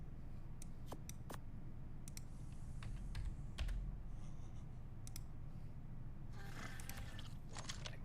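Computer keyboard keys are tapped in scattered quick clicks, with a denser flurry of typing toward the end, close and fairly quiet over a steady low room hum.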